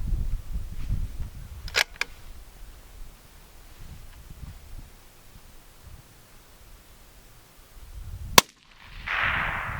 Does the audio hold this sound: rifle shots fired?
yes